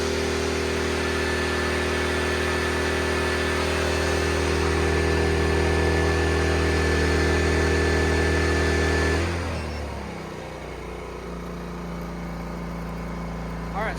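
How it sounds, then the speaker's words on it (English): An EcoFlow Smart Generator 3000 runs after starting automatically, a loud, close, steady engine drone with a constant hum that drops to a lower, quieter idle near the end. "it kicked on the generator all by itself"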